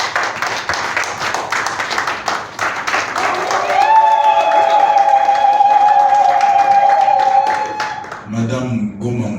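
Applause at a Congolese civil wedding ceremony, loud dense clapping from the assembled guests with voices mixed in. Partway through, a sustained shrill tone such as a whistle or ululation rises over the clapping, and a brief burst of speech comes at the end.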